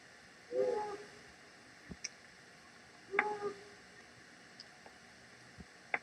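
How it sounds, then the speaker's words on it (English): A mated pair of long-eared owls duet with low hoots, two separate hooting bouts, faint and distant, with scattered sharp snapping clicks between and after them. "So yeah, this is a duet. The two birds are hooting."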